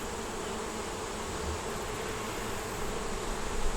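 Honeybees hum at a hive in a steady, dense buzz from many insects, close and continuous without any voices.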